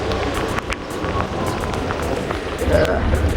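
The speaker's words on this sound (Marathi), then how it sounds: "हो भाई पाऊस," Rain falling outdoors, a steady hiss of drops with wind and passing traffic noise, continuous and fairly loud, with a voice speaking over it.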